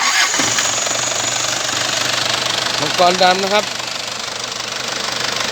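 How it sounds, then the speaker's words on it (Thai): A Mazda B2500 pickup's engine starts and runs steadily from start to finish, a loud, even rumble, while someone talks over it. "เดี๋ยวสตาร์ทเครื่องนะครับเดี๋ยวดู การทำงานเครื่องยนต์"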